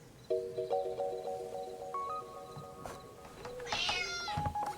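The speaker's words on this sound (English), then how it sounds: "Oh, it must be Nora's cat." A cat meows repeatedly in the video game Dordogne, several drawn-out, close, tonal cries over soft rustling, the last one higher and more insistent.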